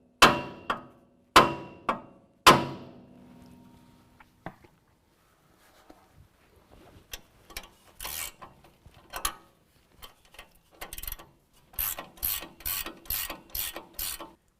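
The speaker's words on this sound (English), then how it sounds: "we're going to strike the side of the knuckle with our sledge to get this loose" Sledgehammer blows on the steering knuckle of a 2017 Ford Raptor, three loud ringing metal strikes near the start, followed by quieter clanks, rattles and a quick run of sharp clicks.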